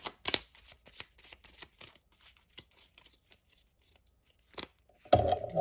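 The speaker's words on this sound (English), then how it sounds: "One last shuffle here" A deck of tarot cards is shuffled in quick, crisp riffles and flicks, close and clear, pausing briefly before a final louder burst of card handling.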